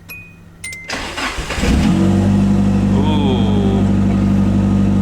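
A car engine on an S13 cranks, catches and settles into a loud, steady idle after a brief fuel pump prime; a voice briefly exclaims as it fires up.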